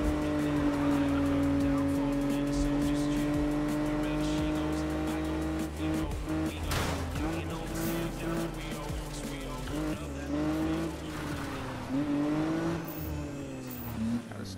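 Race cars roar through a sprint race in the Need for Speed video game, a steady engine drone rising and falling with bursts of tire squeal, loud and continuous throughout.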